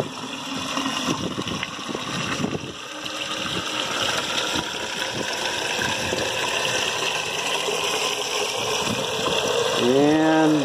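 Water from a hose rushes steadily into a rain barrel of a double-barrel rainwater collector, a loud continuous gush whose pitch climbs near the end as the barrel fills.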